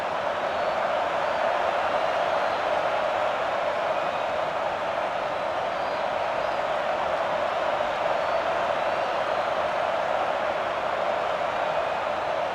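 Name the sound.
stadium crowd cheering in video game Madden 07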